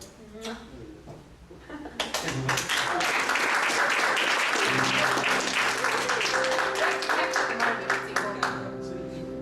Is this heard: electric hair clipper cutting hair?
no